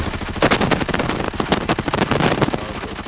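M4 rifle firing on a shooting range in the video game Arena Breakout: a loud, rapid string of close gunshots in quick bursts, with no talking over them.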